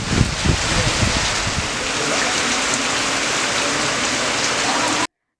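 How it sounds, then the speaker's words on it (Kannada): Heavy rain pours steadily during a Ganesha festival outing, a dense, loud hiss of drops hitting surfaces that continues without a break before cutting off abruptly. "ಈ ಮಳೆ ಬಿಡ್ತಾನೆ ಇಲ್ಲ. ಯಾವ ತರ ಬರ್ತಾ ಇದೆ ನೋಡಿ."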